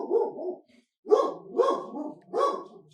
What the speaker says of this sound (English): My apologies. That is my dog, Roscoe.